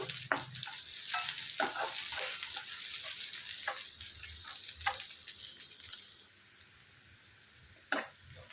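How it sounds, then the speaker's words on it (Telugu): Dried red chillies and curry leaves sizzling in hot tempering oil for a gongura curry, a close crackling fry with sharp spitting pops scattered throughout, easing slightly near the end. "ఒక రెబ్బ కరివేపాకు వేసుకొని వేయించుకోవాలి"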